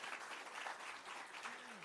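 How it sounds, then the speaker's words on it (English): A round of applause rises from the audience at the launch of a public sector debate competition, a steady, fairly faint wash of clapping that fills the short moment. "give yourselves all a round of applause for coming back to this competition"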